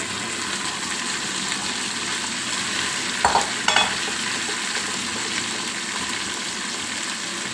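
Ginger garlic paste frying in a pan, a steady continuous sizzle running throughout with a couple of brief stirring scrapes midway, no talking.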